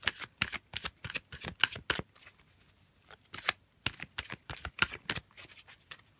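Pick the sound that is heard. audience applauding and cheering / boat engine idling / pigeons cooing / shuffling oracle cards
shuffling oracle cards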